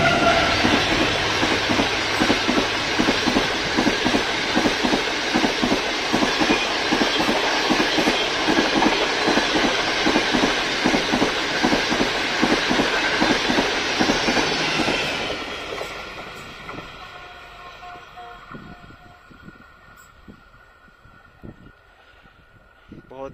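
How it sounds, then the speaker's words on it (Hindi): Green Line Express train thundering through Jhimpir railway station at speed, a loud continuous roar of wheels and rattling carriages for about fifteen seconds before dropping away to fainter track noise as it recedes. "Green line six down green line express jumpy railway station से थ्रो पास कर गई है।"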